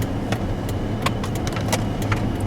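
A 2001 GMC 1500 pickup with a 5.3 V8 drives along, a steady low engine and road rumble with faint interior rattles and clicks over the top.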